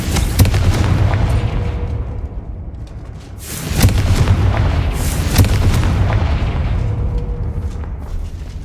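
Spell explosions from the Hogwarts Legacy video game, heavy booming blasts that swell twice and rumble on loudly with deep low-end roar, no voice over them.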